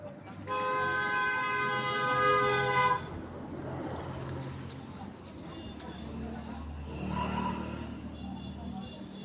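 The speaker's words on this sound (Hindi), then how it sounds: "गाड़ी चल रही है।" A vehicle honks a long, loud, sustained horn blast at a village school's 15 August Independence Day celebration in Chandanpura, then its engine runs on with traffic rumble as voices talk nearby and a second, fainter horn sounds later.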